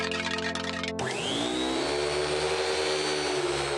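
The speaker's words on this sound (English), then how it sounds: "It looks like you're riding some kind of loud, vacuuming horse." A cartoon vacuum cleaner invention starts up and runs, a steady loud whirring roar with a rising whine as it spins up, continuous and alone without talk.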